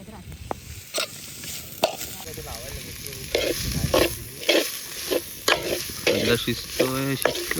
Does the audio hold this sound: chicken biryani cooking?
yes